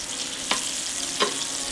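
Bacon sizzles on a griddle at 280 degrees, a steady soft hiss with two brief clicks or scrapes of a utensil. No one speaks.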